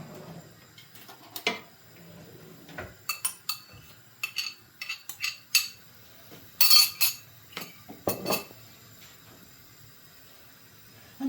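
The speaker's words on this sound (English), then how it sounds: "And I'm adding the garlic now." Garlic is added to oil in a pan and stirred, with scattered metallic clinks and scrapes of a utensil against the pan in irregular bursts over a faint background, close and moderately quiet.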